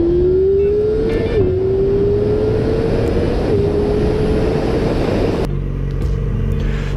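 Yamaha R6 motorcycle engine revving at high RPM, a loud sustained whine climbing steadily with brief dips between rises, then dropping to a lower tone near the end, over heavy wind rumble.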